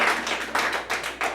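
A crowd of people aged 55 or older claps in response to a show of hands, steady dense applause in bursts over a short stretch, close and fairly loud with no talk.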